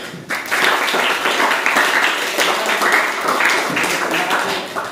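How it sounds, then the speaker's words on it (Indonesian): A classroom of students bursts into steady, dense applause, a sustained roar of many hands clapping close by at full volume for several seconds. "beri tepuk tangan"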